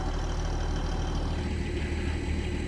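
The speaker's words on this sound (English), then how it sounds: "Listen to that new diesel hum. 120 horsepower, Stadler diesel locomotive." A 120-horsepower Stadler diesel cog railway locomotive hums in a steady, dense drone with a deep low rumble and no voices.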